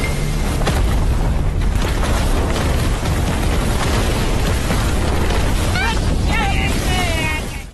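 A huge explosion bursts from an ice mountain in the Perfect World animated series: a loud, sustained roaring blast with deep rumble fills the whole stretch, and a few whooshing tones rise near the end.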